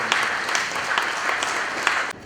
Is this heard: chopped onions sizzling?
no